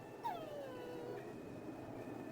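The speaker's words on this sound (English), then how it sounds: "Boney's sad because Boney can't see through the binoculars because they're not made for dogs" A dog whimpers in the video game Mother 3, a single high descending whine that glides downward and trails off, heard alone over soft game background tones.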